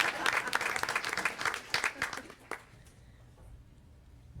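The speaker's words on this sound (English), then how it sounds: "All right, round of applause for Connor." Audience applause in a school board meeting room, sustained clapping from a crowd for about two and a half seconds before fading to quiet room tone.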